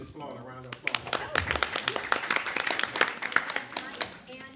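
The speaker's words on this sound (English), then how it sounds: "a round of applause" A room full of people claps, steady scattered applause building up and then tapering off.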